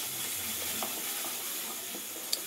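Chili powder, turmeric and meat masala frying in a pan for a chicken dish, a soft, even hiss of sizzling with faint stirring and one small click near the end, no voices.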